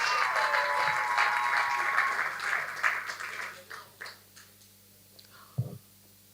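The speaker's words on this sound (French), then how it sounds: "je voudrais que vous l'applaudissiez également." Applause for a contestant at the grand final of a French-language eloquence competition in Congo, clapping that starts full and dwindles to scattered claps, followed by a brief low thump and quiet room noise.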